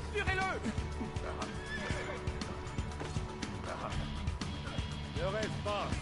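Horse in Assassin's Creed II neighing loudly twice, whinnies at start and end, with clip-clop hooves and busy game background and voices throughout.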